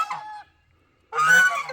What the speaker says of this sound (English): I love my geese